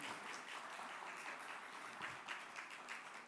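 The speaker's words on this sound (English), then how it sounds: "Can we give a big round of applause for them?" A crowd at a blockchain and NFT summit in Dubai gives a steady round of applause, a dense wash of clapping that sounds distant and quiet throughout.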